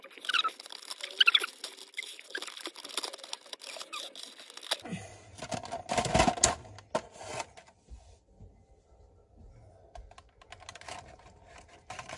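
Packing tape is peeled and pulled from the plastic packaging of a bootleg Planet Namek Super Saiyan Goku figure, giving close crinkly crackles and tearing rasps in irregular bursts, louder in the middle and then fading to softer rustles.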